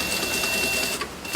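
A sewing machine stitches a luxury leather bag in a repair workshop, a steady, close, continuous mechanical whirr with fine rapid needle rhythm that slackens near the end.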